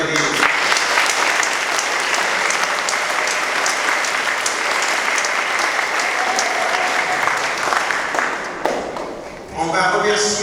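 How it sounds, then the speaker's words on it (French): A church congregation applauds at a baptism service, a dense, steady wash of clapping that carries on for about nine seconds before thinning out, with voices rising near the end. "Vous pouvez les applaudir."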